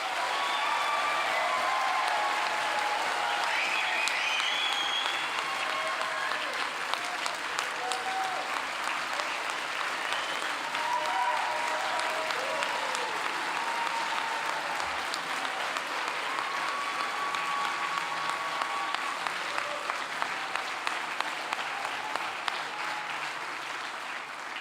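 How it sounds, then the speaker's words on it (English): An audience at a 2022 honors ceremony claps steadily for the graduating class, a dense, continuous wash of applause from a full room lasting the entire stretch with no letup. "And one more round of applause for the class of 22."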